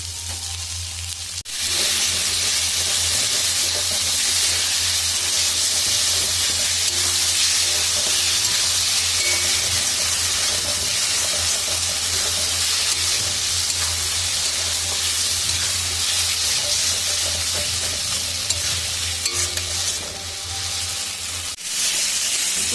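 Tomato and salt hit hot meat curry in a pan, giving a loud, steady sizzle and hiss that runs unbroken for the whole stretch, with no talking.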